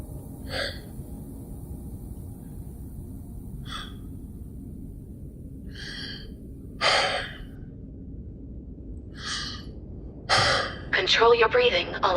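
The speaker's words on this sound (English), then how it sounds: "Control your breathing, Oliver." A man gasping and breathing heavily as cabin pressure is lowered, with a sharp gasp repeating every second or two against a steady cabin hum, and a voice speaking at the end.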